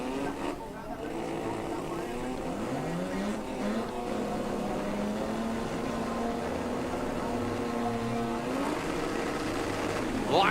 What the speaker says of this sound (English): the two rotary powered imports will get ready to go side by side